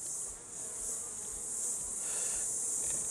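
Honey bees buzz steadily around an open hive, a dense continuous drone close by with no voices.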